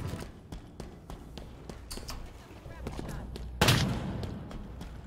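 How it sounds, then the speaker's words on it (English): A sudden loud burst from an explosion in the Halo Infinite Fiesta multiplayer mode on the Fracture: Tenrai event, arriving after a run of sharp gunfire cracks and under ongoing game noise. "Why did I hear an explosion behind me?"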